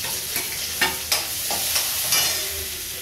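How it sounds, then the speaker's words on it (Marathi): Chopped onion sizzling in hot oil, along with chilli and peanuts, for Marathi-style phodnicha bhaat, with a steady close frying hiss and a few sharp scraping strokes of a stirring spoon. "आता कांदा टाकते।"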